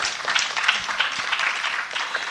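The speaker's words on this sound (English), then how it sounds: "A round of applause for Dabota." An audience applauds for a couple of seconds, a steady patter of many hands clapping together at moderate volume.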